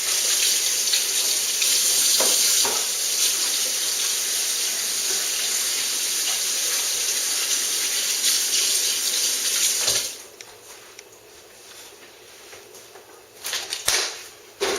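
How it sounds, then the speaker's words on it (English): Kitchen tap running as hands are washed under it, a steady close rush of water for about ten seconds before it shuts off, followed by a few faint clunks and handling sounds. "Wash my hands."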